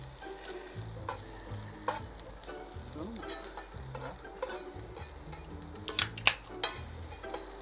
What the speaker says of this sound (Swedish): vad snabbt den här börjar fritera.